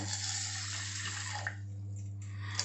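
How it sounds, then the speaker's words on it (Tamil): Water poured into a pot of lentils, a steady splashing stream close by that thins out toward the end, over a constant low hum, no talk. "சேர்த்துட்டு இதில் கொஞ்சமாக ஜலம் விட்டுக்கிறேன்"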